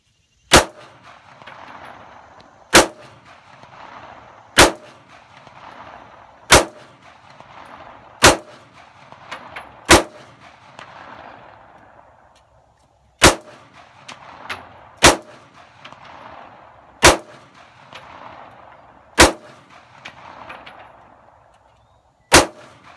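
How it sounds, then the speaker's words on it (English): Twelve 9mm handgun shots fired into a GTS bulletproof vest in a multi-shot test, loud sharp reports spaced about two seconds apart, each followed by a short ringing echo, with a brief pause midway and no talking. "we're going to perform a multi-shot test on the GTS Bulletproof vest with a 9mm handgun"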